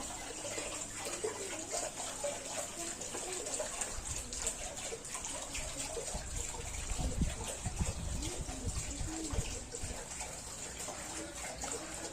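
Rainwater pooled outdoors behind a blockage of leaves, draining away as a continuous low rush and gurgle of flowing water that swells slightly midway.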